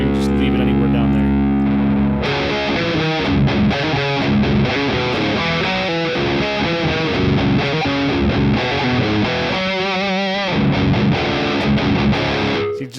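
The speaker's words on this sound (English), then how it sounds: "it just gives a nice full distortion sound" Loud, heavily distorted electric guitar chords and riffs through a Boss Katana MK2 amplifier, with a thick, saturated tone, playing continuously and close up.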